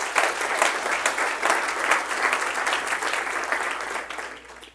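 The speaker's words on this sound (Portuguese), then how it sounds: "dê um aplauso forte para o Senhor Jesus." A church congregation bursts into loud, sustained applause, many hands clapping in a dense wash that holds steady before tapering off near the end, with no voices over it.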